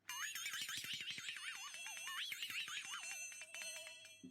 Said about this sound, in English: Fluxatone.